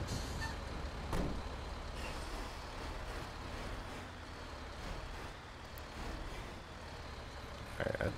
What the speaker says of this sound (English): let's actually go ahead and pull the truck forward